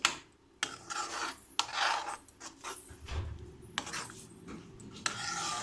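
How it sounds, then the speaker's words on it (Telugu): Marinated paneer frying in a pan for a paneer curry, a steady close sizzle broken by scraping and rasping strokes of a utensil and a few sharp metallic knocks against the pan. "అది ఇందులో వేసుకొని కొంచెం ఫ్రై చేయాలండి."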